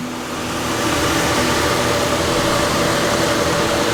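A Chevrolet Trailblazer SS engine idling close by, a steady, smooth, even drone that holds at constant loudness throughout without revving.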